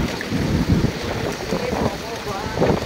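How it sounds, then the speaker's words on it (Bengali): Dense, roaring wash of heavy rain mixed with gusty wind buffeting the microphone, with muffled voices underneath. "ভয়ঙ্কর জোর বৃষ্টি নেমে গেছে।"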